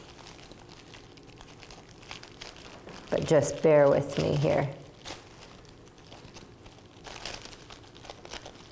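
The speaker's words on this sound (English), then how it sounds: "it might be a little difficult for me to get this" Pattern paper crinkles and tears as it is pulled away from heavily taped fabric during a garment fitting, a short burst of close crackling in the middle of the clip, with someone speaking over it.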